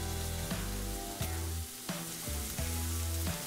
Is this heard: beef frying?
yes